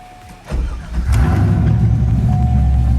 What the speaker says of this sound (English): We can now start the engine